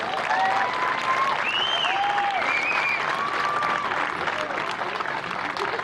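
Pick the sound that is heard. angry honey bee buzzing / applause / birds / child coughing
applause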